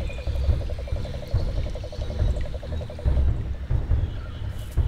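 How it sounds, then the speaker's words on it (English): A chorus of frogs or toads in wild Australia, steady rapid trilling croaks carrying throughout over a low rumbling outdoor background, with nothing else standing out. "the cane toad."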